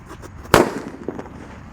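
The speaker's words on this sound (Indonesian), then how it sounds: "Mantap guys, suaranya menggelegar." A disco happy flower firecracker is buried in the ground and goes off with one sharp, loud crack, followed by a short crackling tail and faint outdoor background.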